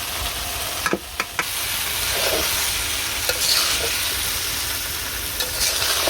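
Raw jackfruit is stirred and fried in a pan for a jackfruit curry. It gives a continuous, close frying hiss with a few sharp clicks and scrapes from the spoon.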